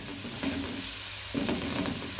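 Spices frying in hot oil as a tempering for Punjabi sarson ka saag, a close, steady sizzle that swells twice as the pan is stirred, with no talking.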